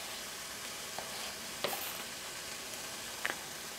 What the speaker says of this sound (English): So for the onions, we're just going to give that a stir every couple of minutes just to make sure it's not getting too brown